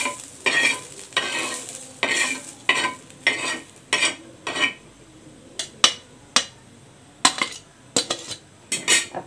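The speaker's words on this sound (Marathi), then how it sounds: "कांदे छान इथे गुलाबी रंगावर परतून झालेले आहेत" Onions being stirred while frying in a pan for a stuffed bitter gourd masala, a metal spoon scraping and clinking in a steady run of sharp strokes over a faint sizzle, with no talking.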